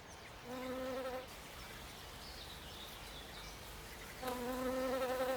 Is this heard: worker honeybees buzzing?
yes